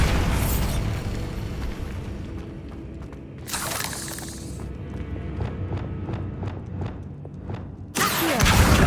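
A Bombarda blasting spell detonates in Hogwarts Legacy, bursts of crashing, shattering noise over a dense rumbling game soundscape, with another loud blast at the end.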